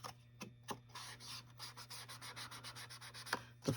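Paper being folded for a journal folio, a quiet run of soft rubbing and creasing strokes in a repeated rhythm, with a few sharper crackles at the start and end over a low background hum.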